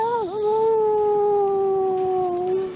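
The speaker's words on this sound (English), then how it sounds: "And the dog howled in the distance." A lone dog howls in a long, sustained, wavering cry with a dip near the start, sounding distant and eerie within a nighttime graveyard-street soundscape, heard alone without talk.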